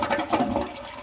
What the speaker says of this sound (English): You can either flush